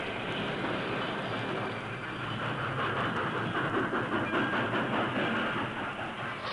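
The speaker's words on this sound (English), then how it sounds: "the Lone Ranger brought the work train to a standstill" A work train in a radio drama rolls along with steady rumbling and faint rhythmic rail clatter under a soft hiss, the sound holding loud and even throughout.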